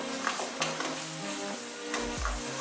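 A spiced gravy with cheese and khoa sizzles and is sautéed in a pan, a spoon stirring through it over a dense steady frying hiss, close, with a low thump near the end.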